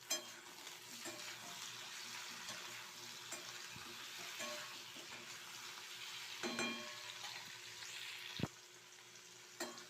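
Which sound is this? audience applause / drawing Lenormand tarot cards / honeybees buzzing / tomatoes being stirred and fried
tomatoes being stirred and fried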